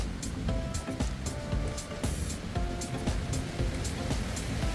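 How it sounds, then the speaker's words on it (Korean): Spring water gushes steadily from an outlet on Ulleungdo, a continuous broad rushing wash with a few sharper splashes, close and fairly loud, with no talk over it. "용천수 물 나오는 거 봐"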